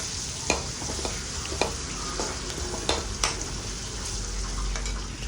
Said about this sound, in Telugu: ఆనియన్ మంచిగా ఫ్రై అయ్యే వరకు కలుపుకోవాలి